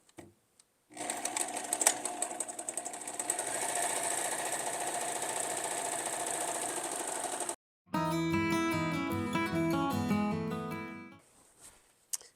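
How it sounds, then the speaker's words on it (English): A sewing machine stitches fabric layers of a colonial cape in two rapid mechanical runs separated by a brief pause, close and steady, with no talking. "So let's just sew this up."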